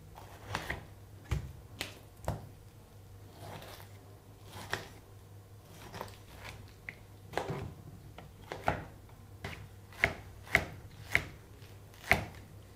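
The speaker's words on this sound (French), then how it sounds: "On coupe l'ananas en petits dés." A knife chops pineapple into small dice on a board, sharp, crisp knocks in an uneven series of about a dozen cuts, quickening toward the end, close and alone with no talk.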